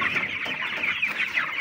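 A flock of 19-day-old broiler chickens, around 1.2 kg each, cluck continuously on a poultry farm, a dense and fairly loud chorus of overlapping calls with no voices.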